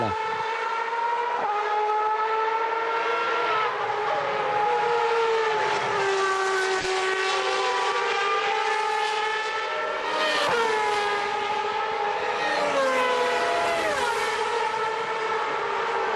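Open-wheel SuperLeague Formula race cars at Monza scream out of the Parabolica onto the long straight, several loud engine notes rising and falling as cars pass close by, one after another with Doppler swoops and gear changes.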